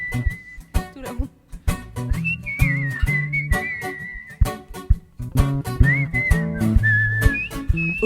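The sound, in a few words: people whistling a tune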